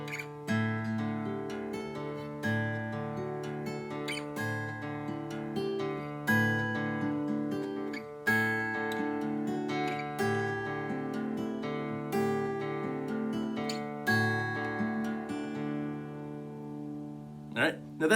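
Acoustic guitar Travis-picking the intro to a song slowly, a steady alternating bass under ringing picked treble notes, close and clear throughout with no talk.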